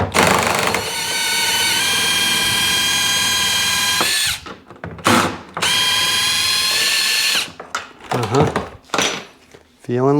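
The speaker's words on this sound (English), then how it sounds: "Drill." A power drill whines steadily for several seconds, stops, then runs again in shorter bursts, close by and loud, while removing bolts from a 2003 Sea-Doo GTX 4-TEC supercharged.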